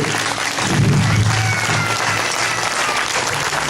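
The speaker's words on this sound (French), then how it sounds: "Tout le monde peut applaudir Théo." Steady applause from a large audience, dense and sustained clapping filling the whole stretch without pause.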